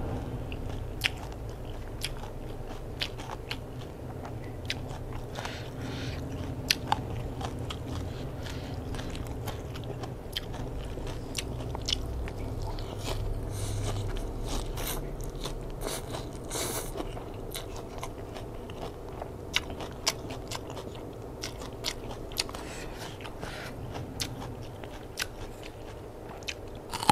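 Quiet, crisp bites and chewing come through as someone eats a spicy Thai rice noodle salad with crispy glass fish, herbs and fermented fish sauce, the irregular crunches repeating throughout.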